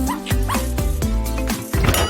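A dog barks and yips close by in a rapid series of about seven sharp, high, whiny bow-wows, loud and evenly spaced, with no talking over them.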